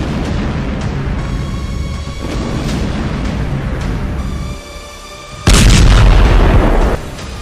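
Israeli explosions in Lebanon, a sustained roar of blasts and rumbling that dips briefly before a sudden loud, booming burst, then falls back to a heavy background din.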